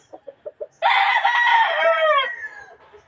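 A pure Raptor sweater gamefowl rooster, late-born, gives one loud, close crow lasting about a second and a half, trailing off at the end, preceded by a few short, soft clucks.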